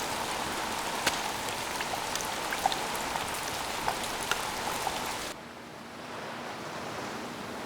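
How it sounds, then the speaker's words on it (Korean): Rain falls on a Korean tidal mudflat in a dense, steady patter with sharper individual drop hits, then softens to a quieter, even hiss near the end. "삶의 터전 위에 쏟아지는 빗방울 속엔 다량의 이산화탄소가 들어있어"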